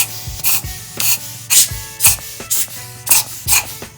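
Brushing and air blowing on the burrs of a Timemore C2 hand coffee grinder: nine short, bright bursts of hissing and scrubbing in a steady rhythm, close and fairly loud, with no talking.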